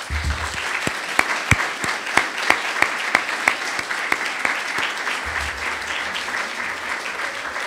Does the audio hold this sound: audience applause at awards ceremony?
yes